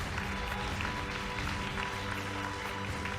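An audience at a talk applauds in tribute to Ho Chi Minh, a dense, steady burst of clapping from a crowd that fills the whole stretch without any voices.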